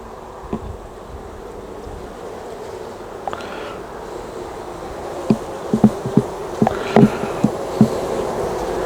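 A steady insect buzz of many Buckfast honey bees at an open hive fills the background, with scattered sharp knocks and clicks of handling on top, fairly close.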